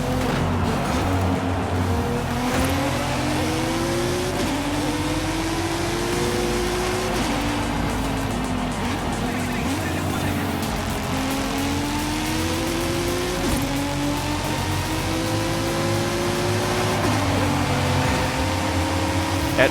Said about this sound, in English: That turbo engine really does sound different from what a normal M3 would sound like, or what you would expect an M3 to sound like stock. It's got that high-pitched turbo whine.